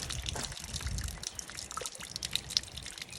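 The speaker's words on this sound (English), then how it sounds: "Look at all this water right here." Rainwater running and trickling after several days of heavy rain, a soft, close, uneven splashing and dribbling with occasional small drips.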